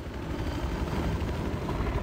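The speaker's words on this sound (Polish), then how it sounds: "Widzę drugi helikopter na północ od was" A helicopter in the game Battlefield 4 gives a steady, loud, dense rotor rumble that fills the whole stretch without a break or any voices.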